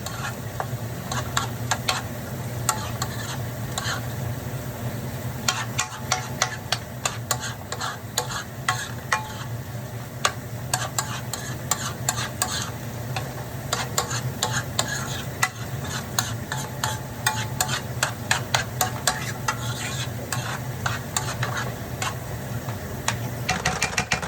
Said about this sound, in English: Okay, I'm finna stir it now